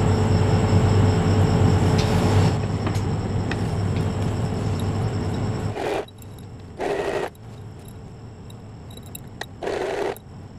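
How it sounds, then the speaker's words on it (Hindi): A sewing machine stitches a zip onto a nighty, running in one long steady whirr before switching to a few short separate bursts of stitching. "तो पहले मैं सिलाई लगा के दिखाती हूँ आपको"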